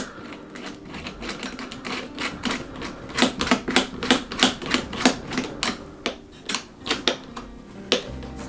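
A magnetic screwdriver tightens a screw into a T-nut on a high-power rocket motor mount, giving a quick run of sharp close clicks and ratcheting taps that speed up and then trail off.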